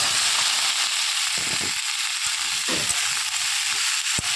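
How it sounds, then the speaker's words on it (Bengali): Cut potatoes and pointed gourd fry in oil in a wok with a loud, continuous sizzle close up, interrupted by sharp spatula knocks and stirring scrapes, without voices. "এরপরে কেটে রাখা আলু আর পটল দিয়ে দেবো।"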